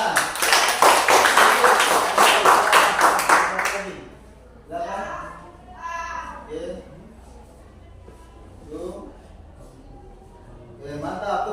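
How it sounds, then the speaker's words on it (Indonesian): Group hand clapping by students during a physical education class at a teacher-training program, a loud dense burst of applause lasting a few seconds and then breaking off into scattered talk. "Oke, mantap, tepuk tangan."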